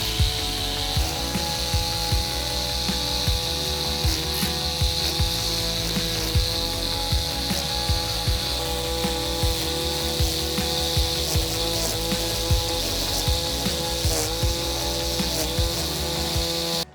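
A Kress 40V cordless grass trimmer cutting grass in a garden, a steady high whine with a buzzing, slightly pulsing drone running continuously and loud throughout, with no talking.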